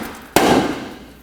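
A hammer strikes a stuck front strut mount on a 2005-2010 Pontiac G6 once, giving a single sharp, loud metallic bang that rings briefly over a steady background hum.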